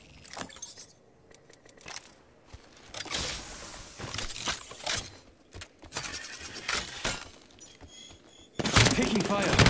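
Gunfire bursts crack out in a crypto squad fight in a video game, with sharp intermittent shots, clinking metallic and glassy debris, and a loud final flurry, while players talk throughout.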